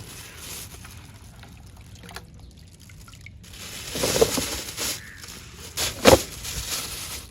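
Small cut coconut pieces are washed in water, with quiet sloshing and trickling that swells into a couple of louder splashes and drips near the end.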